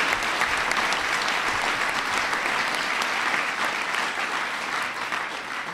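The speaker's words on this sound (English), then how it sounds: "Please give them a big round of applause." A large audience at a Disabilities Act anniversary event gives a big, dense round of applause, loud and continuous from start to finish with only a slight easing.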